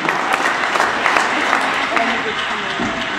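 An audience at a talk about the future applauds Professor Conradi, giving dense, sustained clapping at close range while a voice speaks over it.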